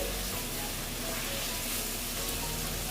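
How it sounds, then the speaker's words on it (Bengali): Fish roe stir-fried with salt in a pan sizzles steadily, a dense continuous frying hiss with faint scraping of stirring. "দেখো আমি নুন দিয়েছিলাম না এখন আমি নুন দিয়ে দিচ্ছি দিয়ে আস্তে আস্তে একটু কষিয়ে নিচ্ছি"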